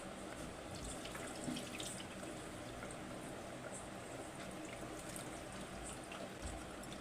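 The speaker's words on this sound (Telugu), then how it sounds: "రైస్ అయితే మనము ఇలా ఫ్రెష్గా కడుక్కొని వాటర్ అన్నీ అయితే తీసేద్దాం" Water runs and sloshes steadily as rice is rinsed, a continuous close splashing and trickling with no talking.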